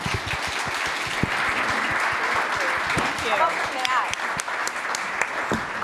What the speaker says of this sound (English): why don't we give another round of applause for our wonderful panelists